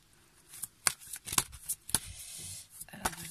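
Oracle cards are shuffled by hand close up, with a string of quick, soft riffling slaps and flicks in uneven bursts, quiet and alone.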